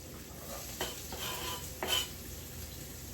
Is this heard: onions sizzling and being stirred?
yes